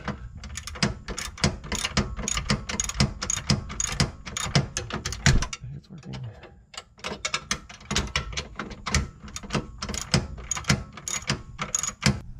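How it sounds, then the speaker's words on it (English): A ratchet wrench tightens a bolt while a DDMWorks ProBeam is installed under a Saturn Sky, giving fast, close, rhythmic clicking in bursts with a brief pause midway. "bolt on the other side that I'm going to go ahead and screw in"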